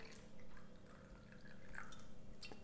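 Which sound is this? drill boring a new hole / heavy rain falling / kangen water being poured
kangen water being poured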